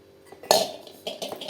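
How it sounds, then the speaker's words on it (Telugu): Mango pickle pieces for village-style avakaya being mixed with oil in a bowl, heard as a few clinks and scrapes of utensil against dish, one sharp louder clink followed by softer stirring knocks, close by with no talk. "కొద్దిగా బాగా కలుపుకొని ముక్కలకు పట్టేటట్టు నీట్గా నూనె ఇంకా కొంచెం పడుతుంది"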